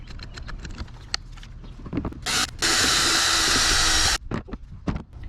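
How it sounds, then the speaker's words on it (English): A power drill with a regular drill bit whirs loudly for about two seconds while mounting a trolling motor bracket on a kayak, preceded by a brief burst, with quieter handling noises and clicks before and after. "I'm gonna finish out with a regular drill bit here"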